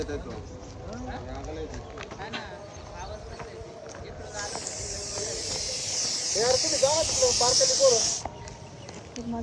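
A Russell's viper coiled up and agitated gives a loud, steady hiss lasting several seconds, rising sharply midway and cutting off abruptly, with someone talking nearby throughout.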